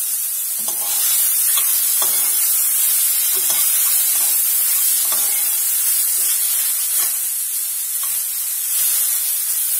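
Sausage fries in an oiled pan with a steady, loud sizzle and hiss, scattered pops and crackles over the continuous frying noise, with no talk.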